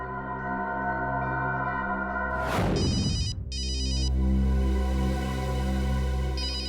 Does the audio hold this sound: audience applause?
no